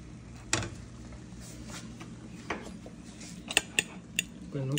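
A metal utensil scrapes and clinks against a plate as Maggi noodles are served, with a few scattered sharp taps and clatters close by in a quiet room.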